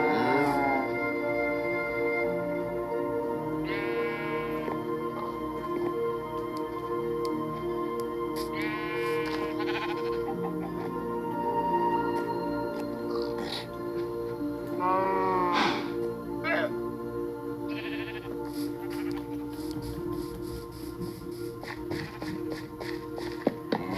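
Sheep in the Minecraft video game bleat several times in short wavering calls over a steady game ambience, with light tapping footsteps and a voice talking throughout.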